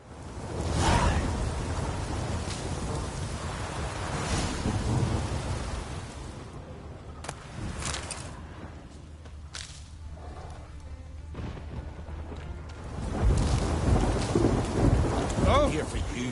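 A thunderstorm in the video game The Witcher 3 rolls on with steady heavy rain, deep rumbling thunder and sharp cracking claps, loud and continuous, swelling again toward the end.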